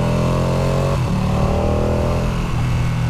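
A Ducati Panigale V2 engine revs hard and loud throughout a wet ride, its steady roar climbing and shifting pitch with a gear change partway through, close and continuous with no talk.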